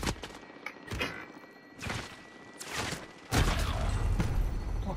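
Sniper rifle shots crack out in Call of Duty Warzone, several sharp, loud reports spaced about a second apart, followed by a harsher, sustained burst of noise toward the end.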